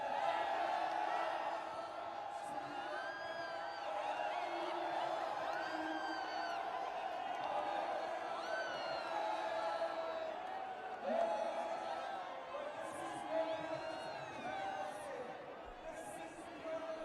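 The crowd at a cricket final between Indian Royals and Asian Stars gives a steady, distant roar with whoops and cheers, continuous throughout and sitting beneath a commentator's voice.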